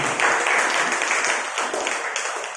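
Audience clapping during a Telugu sermon about Gideon, with a steady wash of applause that rises and then slowly tapers off.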